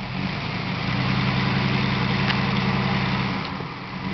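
A truck engine idles steadily with a deep rumble while the vehicle backs out near a creek, loud and close with no voices.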